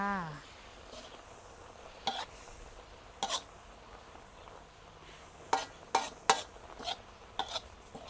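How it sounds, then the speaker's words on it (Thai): Wolffia (khai phum) beef curry with spring onion and basil leaves is stir-fried dry in a pan. Scattered metal spatula scrapes and clinks sound near and loud over a faint sizzle, bunching into quick strokes toward the end. "คั่วไข่ผำเพราะว่าน้ำแห้งหมดแล้ว"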